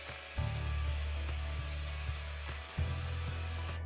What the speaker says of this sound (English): it vacuums as it goes